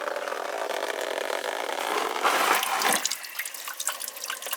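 Water draining from a lawn sprinkler system's copper pipe rushes and splashes out steadily, fairly close, with a brief louder surge partway through before it settles to a trickling flow.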